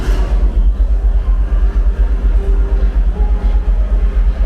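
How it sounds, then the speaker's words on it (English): Loud model mining conveyor belts run nearby in a mining show in Vancouver, with a steady low rumble and regular rhythmic thumping, churning continuously. "Let's start the conveyor belts."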